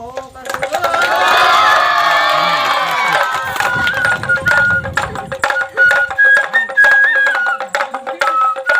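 Children in the audience of a street magic show burst into loud, sustained cheering and shouting that swells for a few seconds, then fades as a voice carries on over scattered crowd noise.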